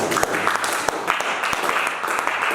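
Congregation clapping during a sermon, a loud and fairly close burst of applause with a few sharper individual claps standing out over a few seconds.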